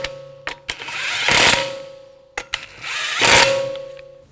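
A hand ratchet snugging the lug bolts on a Volkswagen Jetta TDI wagon wheel, two close, loud bursts of rapid ratcheting clicks, each with a metallic clunk, separated by a short pause.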